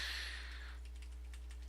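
Typing on a new computer keyboard, with a quick burst of light key clicks close by, fading into a few scattered taps over a steady low electrical hum.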